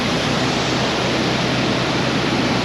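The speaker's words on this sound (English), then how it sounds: "Must have a damaged ground paddle, given we've got water coming in" Water rushes steadily into a canal lock through a damaged ground paddle, a dense, continuous roar filling the whole moment without a break.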